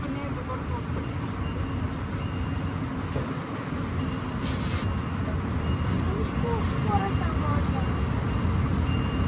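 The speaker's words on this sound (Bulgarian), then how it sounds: "И може и да не се види много, кога пристига влак." An amusement park tourist train rolls in on its rails at a park in Stara Zagora, a steady loud rumble of wheels with faint squeals and clanks, while someone talks over it.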